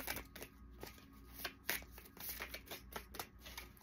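Tarot cards being shuffled by hand, a soft rapid riffling and flicking of card stock with repeated crisp bursts, fairly quiet and close, with no talking.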